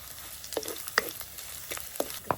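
Chopped dried red chilli and garlic fry in hot oil, a low steady sizzle broken by several quick crackles and spatters close by, no voices.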